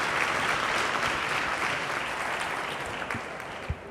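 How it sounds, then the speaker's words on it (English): A room of listeners claps for Juan in a dense, even burst of applause that stays loud and steady before tapering slightly near the end, with no talking over it. "Can everybody give Juan a round of applause?"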